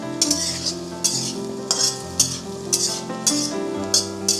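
Onions fry in a pan with salt, cooking okra sabzi, under a steady sizzle while a utensil scrapes and clinks against the pan in repeated rhythmic strokes.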